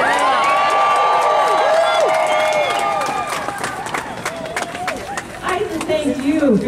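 A large rally crowd cheers and shouts for several seconds, dense overlapping voices and whoops that thin out toward the end, with scattered applause and chatter underneath.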